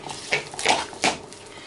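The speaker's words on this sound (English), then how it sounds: "Give it a good old mix round so every bit of it gets the taste and the colouring in." Sausage meat and parsley being mixed in a bowl, giving a few soft wet knocks and scrapes against the bowl at an uneven pace, close by.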